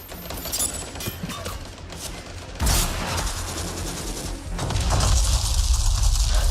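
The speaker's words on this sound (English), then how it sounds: "Some covering fire." Covering gunfire in a video game, rapid crackling bursts of shots and impacts that grow denser and louder toward the end.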